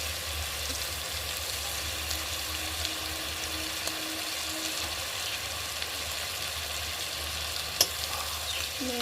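Tripe bhuna sautés in a pan with a steady, even frying sizzle throughout, close and constant, with a couple of faint utensil clinks near the end.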